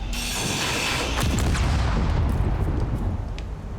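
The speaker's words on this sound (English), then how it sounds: "They don't usually explode, which is an interesting one." A deep, rumbling explosion booms in the Space Engineers video game, loud and close, with a heavy low roar that slowly decays into crackling debris.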